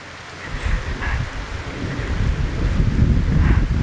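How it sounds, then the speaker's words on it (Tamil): Heavy rain pours steadily over a farm, with deep rumbling thunder rolling beneath it and building in loudness toward the end, with no voices. "இந்த இடத்துல உங்கள் புண்ணியத்தில் நல்லா மழை பெய்யுதுங்க"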